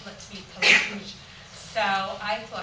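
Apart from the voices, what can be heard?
sneeze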